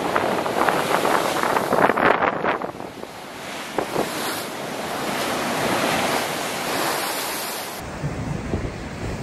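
Rough open sea with rogue waves crashing and breaking, a continuous loud roar of surf with surging bursts and steady wind buffeting the microphone throughout.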